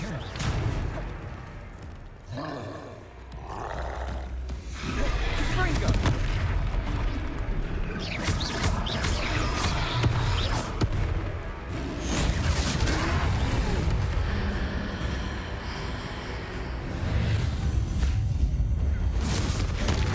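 A Confringo blasting spell goes off in Hogwarts Legacy, giving loud booming bursts with a heavy low rumble amid dense battle effects and music. A brief lull comes early, then sustained explosive energy follows.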